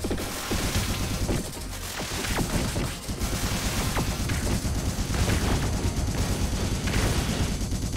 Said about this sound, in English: To do with this cannon, but apparently it can shoot through terrain?